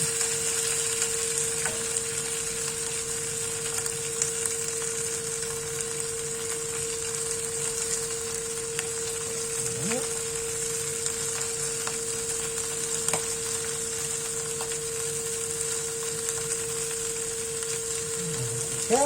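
Chopped shallots fry in a pan with a steady, even sizzle that holds for the whole stretch, joined now and then by faint stirring scrapes and a constant low background hum.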